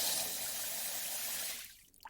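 Shower water runs in a steady broadband hiss, close and fairly loud, then cuts off near the end, leaving a few faint drips and small sounds.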